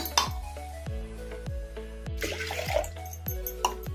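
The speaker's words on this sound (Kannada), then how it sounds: "ಈ ಥರ ಗ್ಲಾಸಿಂದ ಒಂದೂವರೆ ಗ್ಲಾಸ್ ನೀರು ಹಾಕೋಣ" One and a half glasses of water are poured into a pot for brinjal sambar in short splashy bursts, with light clinks of a glass against metal between pours.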